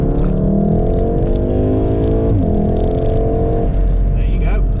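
A 2016 Volkswagen Golf R with a 2.0 engine and DSG gearbox revs close up and loud, its pitch climbing and dropping in several sweeps over a constant engine drone.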